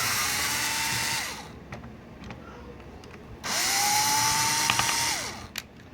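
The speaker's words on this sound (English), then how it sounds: "I actually have a special screwdriver" A powered screwdriver works on the nose guard of an arcade light gun in two whirring bursts, each a little over a second long, with a quiet pause between them and no talk.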